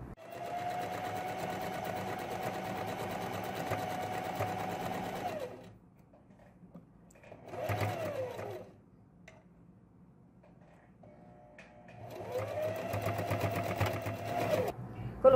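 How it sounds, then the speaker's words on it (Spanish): Sewing machine stitching a seam on a baby jumper's bib panel, running steadily in a long loud burst, pausing, a short whir, then another sustained run near the microphone. "Y pasamos costura."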